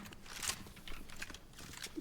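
Stomping footsteps in the Fortnite video game, a series of faint, quick thudding steps in an irregular rhythm, quiet and somewhat distant.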